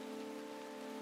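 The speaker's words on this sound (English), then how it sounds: "It's raining." Rain falling in the Winemaking Simulator video game, a soft, steady patter at low volume running under a faint constant tone.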